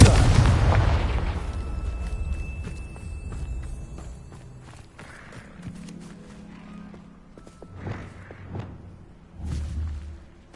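Fiery spell blasts from a Harry Potter video game open with a loud booming explosion that rumbles and decays. Lighter footsteps and smaller bursts and pops follow.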